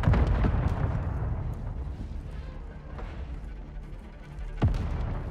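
A deep rumbling rocket launcher blast in Warzone 2.0 with low booming thuds, followed later by a sharper single explosion.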